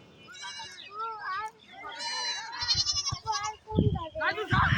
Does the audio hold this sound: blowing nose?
no